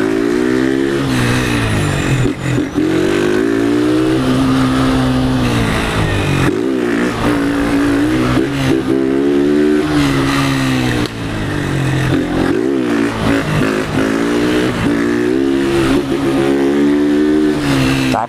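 A blue 2023 Honda Fan 160 motorcycle with a tin exhaust and no filter revs hard and close, its loud engine note rising and falling in repeated throttle blips over a steady idle, with no talking.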